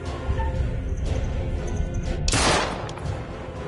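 Gunfire in the horror game Little Hope, a sharp, loud crack late in the clip followed by a ringing decay, set against dense tense game ambience and rumble.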